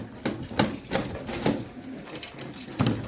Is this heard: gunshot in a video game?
no